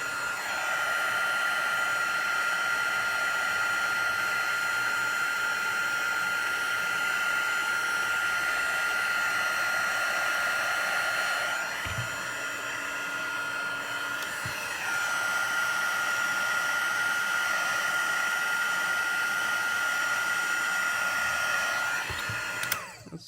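Heat embossing tool blowing hot air over a stamped card, a steady close whooshing whine with a high tonal hum that dips briefly midway, then continues alone with a few light knocks.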